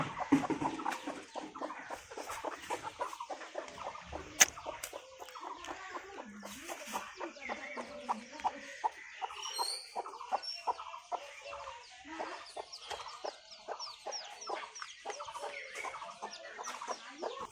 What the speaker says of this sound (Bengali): আর এই যে কয়টা মুরগি আছে আমার।